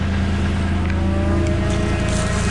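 A skid loader's diesel engine idles steadily up close, with a continuous low rumble and droning hum that holds level for the entire stretch, with no voices over it.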